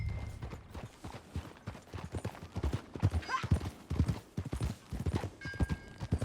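Horse hooves clip-clopping in a brisk, even rhythm during riding in Red Dead Redemption 2, close and clear, with a short whinny partway through.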